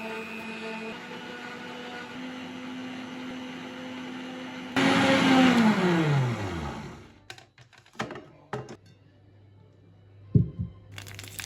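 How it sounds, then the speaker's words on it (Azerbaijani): An electric mixer whips egg batter for a chiffon sponge cake on high speed with a steady hum, then its motor winds down in a falling whine, followed by a few scattered knocks and clicks. "qarışığı mayonez kimi kütlə alınana kimi yüksək rejimdə mikser yardımı"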